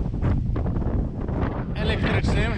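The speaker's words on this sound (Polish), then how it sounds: "Słuchajcie, jest taki wiatr" Strong wind buffets the microphone in an outdoor lakeside setting in the Masuria region, a loud continuous rumble with gusts throughout.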